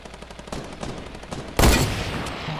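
Gunfire in a Fortnite Battle Royale squad match, with a dense stream of shots running throughout and a louder, close burst about midway that stays strong to the end.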